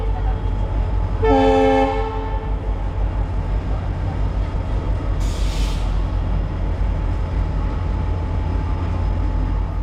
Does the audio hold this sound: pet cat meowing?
no